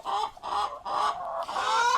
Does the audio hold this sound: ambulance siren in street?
no